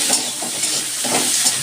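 Boiled cauliflower dropped into hot oil with white cumin, frying in a pan: a steady, loud sizzle and hiss with a few soft stirring scrapes, no voices.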